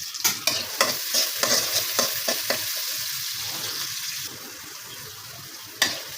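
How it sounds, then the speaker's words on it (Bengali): Chillies are stir-fried in a pan with quick rhythmic scraping and knocking of a spatula over a crackling sizzle, close and loud, the stirring stopping partway and leaving a softer hiss before one last scrape. "আমার মরিচটা যখন কষানো হয়ে যাচ্ছে"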